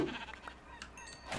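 A sheep bleats in the blocky survival game TerraFirmaCraft, one short nasal cry heard faintly over a soft, steady game background.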